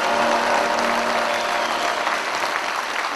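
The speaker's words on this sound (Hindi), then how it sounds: "तालियां बजाइए एक बार यदि आप स्वीकार करते हैं।" Dense, sustained applause from a large audience during a speech, steady and close, continuing throughout without a break.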